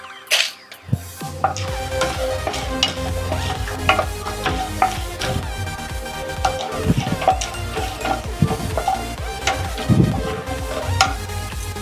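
Mustard seeds, cumin and chana dal frying in hot oil in a pan, a dense close crackle and sizzle with popping seeds and occasional stirring scrapes, continuous and fairly loud with no talk.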